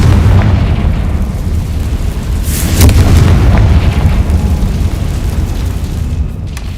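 A Confringo spell explosion in the game Hogwarts Legacy, a loud, sustained booming blast with deep rumbling fire and crackle that fills the whole stretch before easing slightly at the end.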